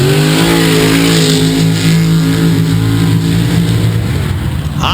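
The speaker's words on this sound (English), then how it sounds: "We'll see what he has for Garrett Williams here in round 1 of the Super Stock Eliminator" Super Stock drag racing cars roar through a run in round one of the eliminator at a drag strip, a loud sustained engine drone with steady harmonic pitch that holds throughout, slightly wavering near the end.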